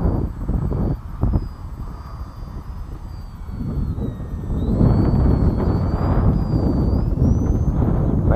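A Highlander RC model airplane's engine throttles up, its whine rising in pitch and growing louder midway, heard outdoors under heavy buffeting from a stiff wind against the microphone.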